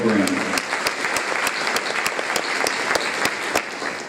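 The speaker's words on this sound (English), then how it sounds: "Let's give those administrators some applause, please." Applause for school administrators fills a room with dense, continuous clapping from a crowd, with a voice over it at the start and sharp rhythmic claps standing out nearby.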